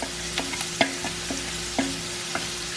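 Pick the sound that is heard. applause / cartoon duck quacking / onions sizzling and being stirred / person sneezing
onions sizzling and being stirred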